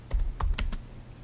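A few quick keystrokes on a computer keyboard, close and crisp, a short burst of about five clicks with a brief pause.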